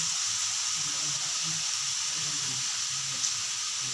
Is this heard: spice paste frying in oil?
yes